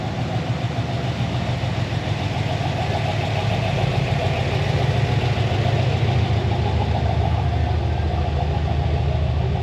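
A restored OBS Chevy truck engine idles steadily at close range, a continuous low rumble with an even pulsing throb that holds for the whole stretch, with no one talking over it.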